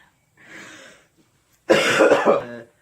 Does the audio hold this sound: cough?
yes